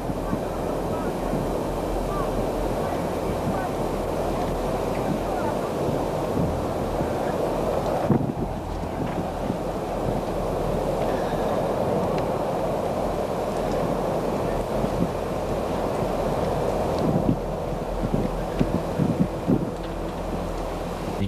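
A constant, loud blustering roar of wind from a fire tornado in a Utah wildfire, with heavy wind buffeting on the microphone and faint voices underneath.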